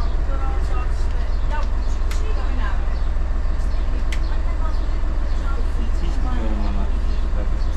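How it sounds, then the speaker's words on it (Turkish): A bus converted into a camper runs with its exhaust brake engaged, giving a muffled, constant engine drone. People talk over it the whole time. "egzoz frenine bastığım zaman bak ses hemen bozuyor, boğuyor kendini bak"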